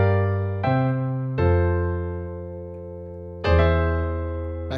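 Piano chords for a song sound with a quick grace note into each one over a low E natural in the bass, three sustained struck chords ringing out alone with no talk.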